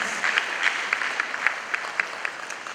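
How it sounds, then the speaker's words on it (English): A lecture audience at the Supreme Court's 150th anniversary event at Manhyia Palace breaks into applause, a steady wash of clapping with a few sharper, closer claps standing out, and no speech over it. "Please, a big round of applause."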